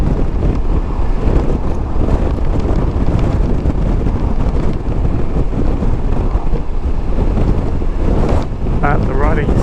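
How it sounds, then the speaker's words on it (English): Strong, gusting wind roars across the microphone of a CFMOTO 800MT motorcycle riding in cold weather across Australia, a loud, steady broadband buffeting that persists throughout with no speech. "In case you can't tell, the wind has really picked up again."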